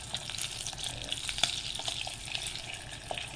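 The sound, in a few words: Tulip luncheon meat frying in a pan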